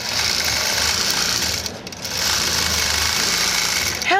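A Statler Stitcher computerized quilting machine sews a quilt with a loud, dense mechanical whir. It pauses briefly about midway, then resumes just as strongly.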